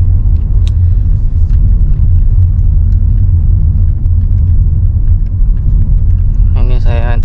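A Toyota Innova Zenix Q Hybrid picks up speed toward 40 km/h, giving a steady low road rumble and engine drone from inside the cabin, loud and constant, with a brief chime or tone near the end.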